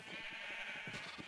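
Sheep in the video game Minecraft bleat in a few short, nasal calls, fairly faint over a soft background.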